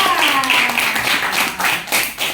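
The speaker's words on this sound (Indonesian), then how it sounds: "Angel, tepuk tangan untuk Angel." A classroom group claps together in a sustained burst of applause, dense and close, lasting the whole moment.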